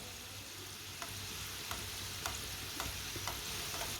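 Homemade roll cooking in a pan on a stove over lowered heat, a quiet steady sizzle with soft periodic taps or stirring clicks about every half second.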